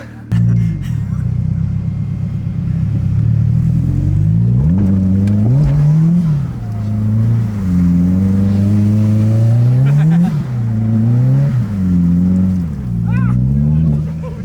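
A Subaru STI engine revs loudly and close while drifting in snow, its tone climbing and dropping in repeated surges as the throttle is worked over a continuous heavy drone.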